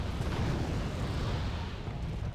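Mortar rounds landing on commando infantry in the wargame Red Dragon, a dense, continuous rumble of blasts with no gaps, loud and heavy in the low end throughout.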